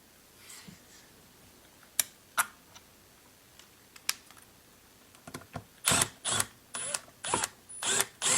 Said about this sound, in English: Just temporarily put a couple of these screws in.